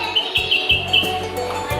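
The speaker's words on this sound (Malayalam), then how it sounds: "കിളി കരയുന്ന കേട്ടോ" A bulbul chick calls from its nest inside a school classroom, giving a few short, high chirps in quick succession over a low, steady room hum.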